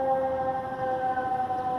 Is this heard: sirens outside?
yes